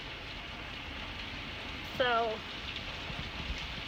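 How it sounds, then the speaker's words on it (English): Heavy rain pouring steadily during a severe storm, a dense even hiss filling the background while a voice briefly speaks a single word midway. "You can see now just how heavy the rain is"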